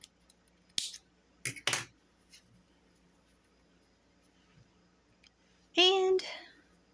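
A few sharp scissor snips cut crochet yarn in separate quick clips close by, followed after a pause by a brief burst of speech.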